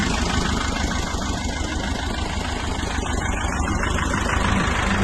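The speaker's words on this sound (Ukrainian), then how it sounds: "Трактор Т-25." A T-25 tractor engine runs steadily and close in a field, hooked to an AGD 1.3 disc harrow, with a dense, even mechanical drone and no voices.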